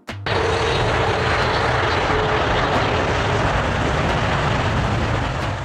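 A Boeing 777-9 airliner produces a loud, steady jet roar that rises abruptly at the start, then holds as a broad, constant rush.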